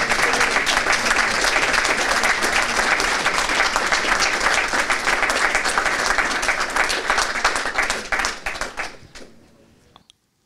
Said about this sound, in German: Ihr dürft klatschen.